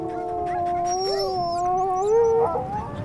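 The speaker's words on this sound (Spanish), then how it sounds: "un profundo aullido retumbando entre las montañas" A wolf pack howls in the Himalayan mountains, long rising and falling tones overlapping from several animals, fairly close and steady, with a brief yip near the end and no talking.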